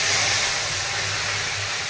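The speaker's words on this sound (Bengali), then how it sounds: "তেঁতুলের কাঁধটা দিয়ে দিলাম" Tamarind pulp hits a pan of hot oil in which five-spice seeds have just been fried, sending up a steady, dense sizzling hiss that stays even and loud throughout.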